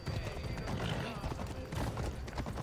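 Horse hooves gallop in Assassin's Creed Odyssey, a quiet, rapid clip-clop rhythm running under a low game soundscape, with faint voice-like sounds mixed in.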